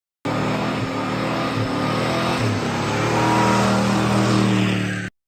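Big-block Plymouth Fury GT with a 440 cubic inch Super Commando V8 on a single 4-barrel carburetor, revving loudly and steadily, with the engine's deep drone swelling slightly partway through before cutting off abruptly.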